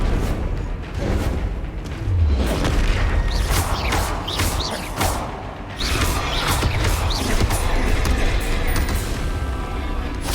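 Confringo blasting curse explosions from Hogwarts Legacy boom repeatedly in a dungeon fight, loud and close, with layered rumbling impacts, crackles and whooshing spell effects running throughout.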